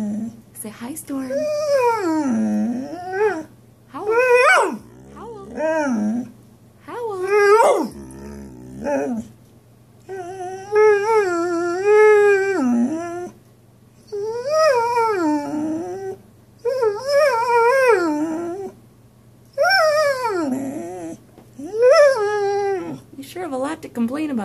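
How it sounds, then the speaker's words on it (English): A dog howls and yowls repeatedly in long wavering bursts, close and loud, with short pauses between cries. "Can you howl?"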